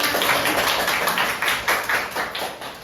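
Students in a classroom clap after a presentation, a fairly close run of hand claps falling in a loose, steady rhythm for a few seconds.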